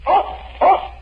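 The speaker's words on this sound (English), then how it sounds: "That's my dog Tige. He lives in a shoe." A dog barks twice in an old radio advertisement, two short, close, mid-pitched woofs about half a second apart with no talking over them.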